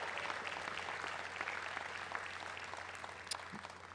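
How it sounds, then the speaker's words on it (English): At a 2022 commencement ceremony, the audience gives sustained applause to families and friends, a faint, even wash of many hands clapping at a distance that continues throughout. "give another round of applause to your family and friends"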